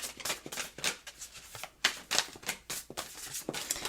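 Tarot cards are shuffled during a reading in quick irregular bursts of crisp riffling and slapping, close and fairly loud, with brief pauses between each handful of cards.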